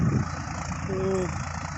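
Tractor engine idling in an open farm field, a steady low rumble held close throughout with a brief tonal whine in the middle; people talk faintly nearby.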